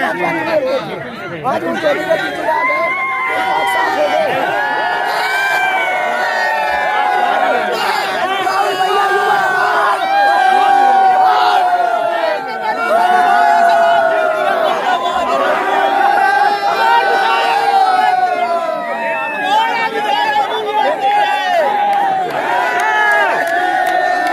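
A dense crowd gathered at election results in Madhya Pradesh chatters and shouts continuously, with voices rising into cheers and calls, loud and close throughout.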